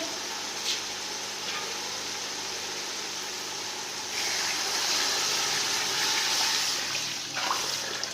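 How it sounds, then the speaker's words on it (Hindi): About four litres of water pours steadily into a pot of fried chillies, growing louder and fuller halfway through as the flow increases. "अब हम इसमें 4 लीटर पानी डालेंगे।"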